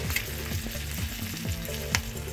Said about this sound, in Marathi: अशा प्रकारे दुसऱ्या साईडने पण आपण 5 मिनिटं नाही पण 2 ते 3 मिनिटं भाजून घ्यायचं।